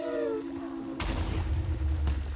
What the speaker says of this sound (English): There's a lot of explosions about there.